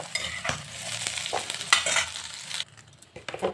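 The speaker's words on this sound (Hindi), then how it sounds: "मटर जब डालते हैं तो चलाते हुए भूनें ताकि मटर चिपक जाएगा" Mushroom, peas and cauliflower stirred and fried in a pan, close scraping strokes of the spoon over a steady sizzle, ending in a quieter pause with a few last scrapes.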